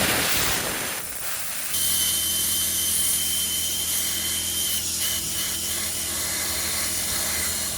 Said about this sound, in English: I'm going to run some pressurized air through the lines just to clean them out